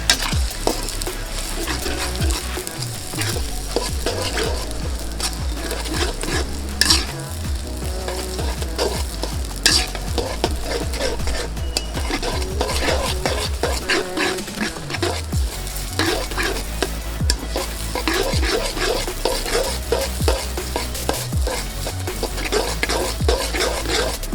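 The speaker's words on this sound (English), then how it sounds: "Let's give it a stir." Kala bhuna meat with red chili stirred in a hot pan, a continuous loud sizzle and frying crackle with repeated scraping strokes of the spoon throughout.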